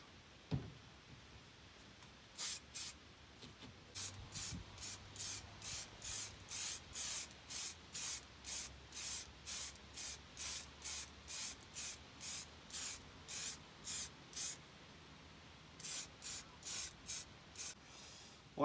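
A liquid coating is sprayed onto old restored tool blades in a long run of short, even hissing bursts, steady and close, with a brief pause before a final few sprays.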